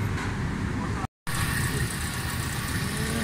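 A Suzuki Alto 1000cc car engine idles with a steady, loud, rumbling drone, broken by one brief dropout, with no sharp starting crank evident.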